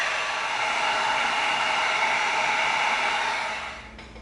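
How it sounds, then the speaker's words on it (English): A heat gun blows hot air to heat seal an EVA foam trigger, a steady close hiss of airflow that holds evenly and then tapers off as it shuts down near the end. "let's heat seal that trigger in there"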